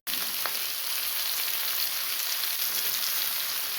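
Food cooking under a lid in a pan for a Brahmin-style methi tamarind stew with jaggery, giving a steady, soft sizzling hiss that holds even throughout without any talk.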